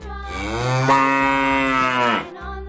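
A single long, loud cow moo, deep and drawn out, rising in strength and then tapering off after about two seconds.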